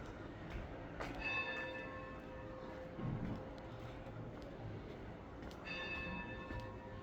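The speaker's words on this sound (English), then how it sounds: "we are outside the church. You can hear the bells now." Church bells ring outside the Church of the Holy Sepulchre in Jerusalem, faint distant tolls sounding three times with lingering ring, under quiet outdoor street ambience.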